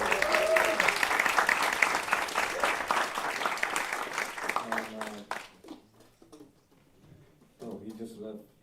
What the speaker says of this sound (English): Maybe put your hands together for Vanessa Rubin